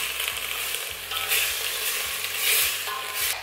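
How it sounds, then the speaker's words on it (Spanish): Large chunks of zucchini with onion sizzle steadily in a frying pan while a utensil scrapes and stirs through them, the frying loud and close throughout. "He tenido unos 5 minutillos el calabacín aquí rehogándose"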